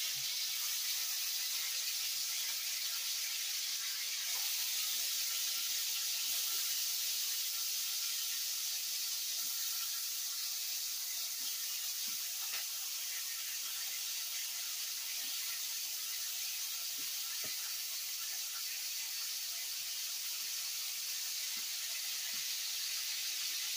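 Ham sizzles and hisses steadily in a $2 yard-sale 10-inch skillet, a continuous bright frying crackle with a few faint pops and no talk.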